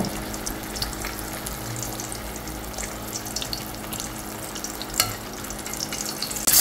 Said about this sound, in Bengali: মিষ্টি কুমড়াগুলোকে এপিট ওপিট করে সুন্দরভাবে ভেজে নেব